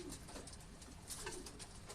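Pigeons kept as old racing birds coo steadily in a loft, a continuous soft murmur of overlapping low calls close by, with no talk.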